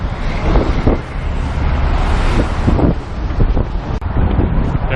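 Strong wind buffets the microphone at the Golden Gate Bridge in San Francisco, a constant loud roar and rumble with gusting swells throughout and a brief dip near the end, with no talk.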